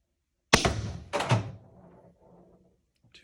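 A First Strike FSC paintball marker fitted with an SSD power spring fires one shot during a spring test, a sharp close thunk followed by a second thud and a fading rattle, with no talking.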